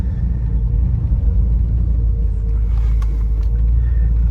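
A Lincoln Continental with a 460 engine drives along, a deep, steady engine and road rumble filling the cabin without a break and no voices.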